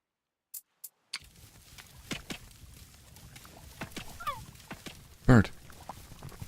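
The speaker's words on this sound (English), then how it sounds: "Bird." Bird call in the video game Oceaneers, a short warbling chirp and a louder burst amid faint ambient ticks and clicks, mostly quiet with a few soft taps at the start.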